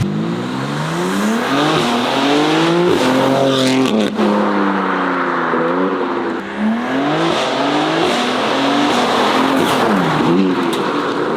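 A BMW G8X M2/M3/M4 engine with a carbon fiber intake revs and surges as it drives past, pitch climbing and falling through several accelerations, loud and close with no talking.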